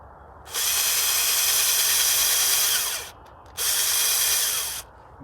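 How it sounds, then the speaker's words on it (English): A cordless drill bores holes into pallet wood for a garden raspberry trellis: two long, loud, steady whirring runs with a short pause between them, close up and with no talking. "So I'm just drilling some holes."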